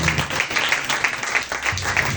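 Steady applause from a church congregation fills the clip, a dense continuous patter of many hands clapping at moderate volume.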